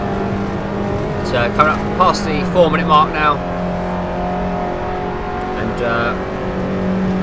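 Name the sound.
race car engines in Assetto Corsa video game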